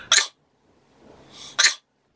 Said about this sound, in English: the worst time to sneeze is when you're trying to do mascara